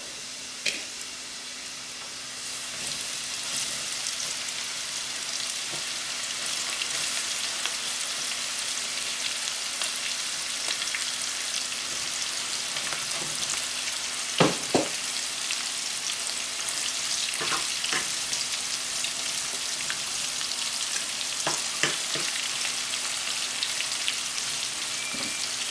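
Onions fry in a pan for a burger, a steady crackling sizzle that holds throughout at close range, with a few sharper pops and no talking.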